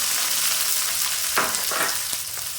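Chopped onion and green chili frying in oil with black cumin seeds, a steady close sizzle with a few soft stirring scrapes, no voices.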